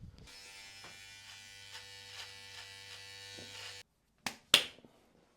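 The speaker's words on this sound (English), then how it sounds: "give me 2 minutes, let me have a shave" An electric shaver buzzes steadily and fairly close for several seconds while shaving a face, then switches off, followed by two sharp clicks.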